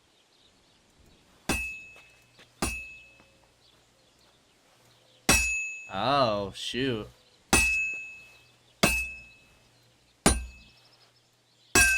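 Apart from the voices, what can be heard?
hammering a sword on an anvil, video game Kingdom Come Deliverance 2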